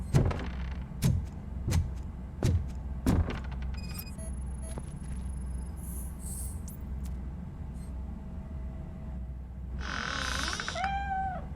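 A cat in the video game Robocop Rogue City gives a couple of drawn-out meows near the end, following a series of heavy rhythmic thuds and scattered electronic game sounds.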